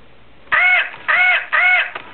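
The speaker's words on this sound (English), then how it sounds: "He'll squawk." A remote-controlled toy bird gives three loud, harsh electronic squawks that sound like a crow's caw, evenly spaced and close.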